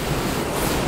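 Steady, loud roar of strong wind buffeting a Rode NTG2 microphone in a blimp on a sandy beach, a continuous broadband rush with no voices.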